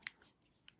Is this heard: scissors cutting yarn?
yes